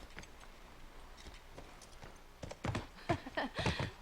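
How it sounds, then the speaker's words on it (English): Horse hooves clip-clopping in the video game The Last of Us, starting faint and growing into louder, close, uneven hoof strikes over the final seconds, with no talk over them. "Okay, Horsey. Going back"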